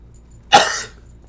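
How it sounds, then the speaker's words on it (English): A single short cough, close and sharp, breaks a quiet room. "Sorry, a little cough there."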